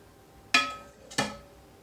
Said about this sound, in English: So just a couple ladles full.